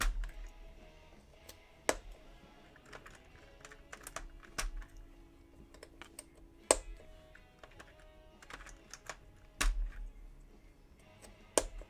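Typing on a Sho S60 mechanical keyboard, with irregular clacks and occasional louder key strikes, close and sparse, with a faint tonal rattle under the keystrokes.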